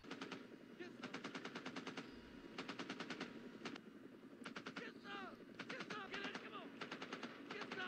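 Machine gun fire from the war film Full Metal Jacket rattles in rapid repeated bursts, with scattered shots, shouting and battlefield noise between the volleys.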